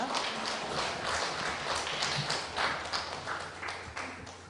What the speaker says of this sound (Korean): 우리 박수로 맞도록 하겠습니다.